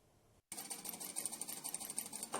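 Sewing machines stitching clothes in a tailoring workshop, a rapid, close mechanical whirring chatter that starts abruptly after a brief quiet hum and runs continuously at a fairly soft level.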